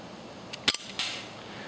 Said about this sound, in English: we're going to shoot it at 100 feet and see what we get